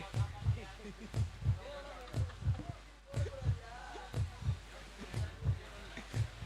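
A repeated heartbeat sound effect played over a PA at a local football match, steady lub-dub pairs pulsing low and loud at an even rhythm, with crowd noise and talk in the background.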